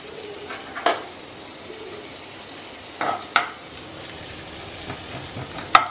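Onion fries quietly in a pan for Maggi noodles in a hotel room, a low hissing sizzle with a few sharp clatters of utensil against the pan.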